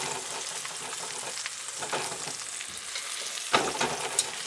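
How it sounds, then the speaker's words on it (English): Pieces of food sizzle in butter as they are turned in a pan, with a steady crackling fry and a few soft scrapes and knocks from the turning, ending on a sharper clatter. "Give them a turn in the butter so that hopefully they don't stick and that they brown nicely."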